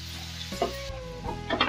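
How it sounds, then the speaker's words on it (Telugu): Chopped onions go into hot oil and fry, with short bursts of sizzle and a few soft clatters of stirring over a low background, close by. "వేగిన తర్వాత మనం తరిగిపెట్టిన ఆనియన్స్ వేసేస్తున్నాను."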